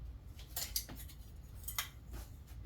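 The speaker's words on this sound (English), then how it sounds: "So now I'm going to add the lid," A metal canning lid set onto a jar of pumpkin makes a few sharp, bright metallic clinks and taps, close and fairly quiet over a low background hum, with no talking.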